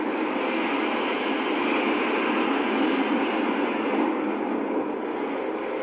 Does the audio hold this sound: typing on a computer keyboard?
no